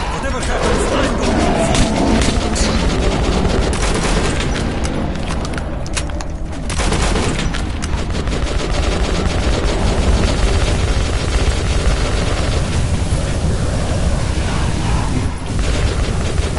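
Heavy gunfire and missile explosions in the video game Metro 2033 Redux, a loud continuous barrage of booms and rattling shots with a brief dip midway, voices shouting over the battle.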